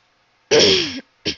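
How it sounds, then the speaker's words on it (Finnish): A single person's cough, a harsh half-second burst followed after a brief pause by a second, shorter cough, close and loud in an otherwise quiet room. "Sori, tosta yskäisystä on ollut vähän yskää."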